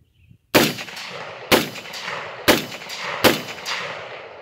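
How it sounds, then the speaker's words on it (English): An AR-15 pistol with a 2.5 inch barrel fires four loud, sharp shots, each ringing out before the next, roughly a second apart, with no talking. "That's the first time this gun's ran."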